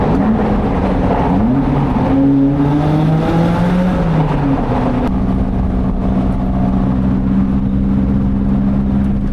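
A Lotus Elise revs its engine near Lake Como, a loud buzzy note climbing and dropping in quick blips before holding a steady droning pitch, with no talk.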